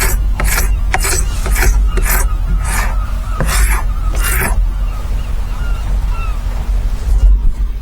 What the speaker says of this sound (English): Find these carbide scrapers fantastic for getting the rough off, and then we can go over the details.